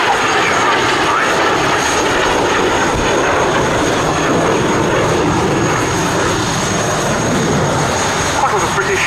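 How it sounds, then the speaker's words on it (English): A BAC Strikemaster jet at an air show, with two aircraft on a competition run: a loud, steady jet roar fills the whole stretch while a commentator speaks over the public address. "Now the two aircraft coming for a competition run tonight."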